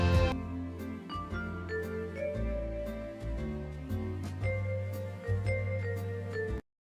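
Background music song for a Roblox stage round system game, a steady melodic track with sustained bass notes and layered tones playing alone at moderate loudness, then cutting off abruptly at the end.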